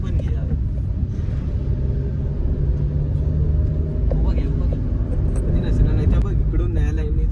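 A car cruising along the Mumbai-Goa highway produces a steady low engine and road rumble throughout, with occupants chatting inside the cabin over the drone.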